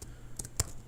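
A computer keyboard clicks in a few quiet, separate keystrokes spread unevenly across the moment, soft and close with a hushed background.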